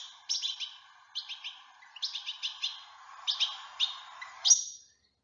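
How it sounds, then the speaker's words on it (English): Goldfinches chirp and twitter in quick, bright bursts, repeated in clusters over a faint steady background, moderately distant. "Then comes the goldfinch with all its noisy movements and chirruping sounds."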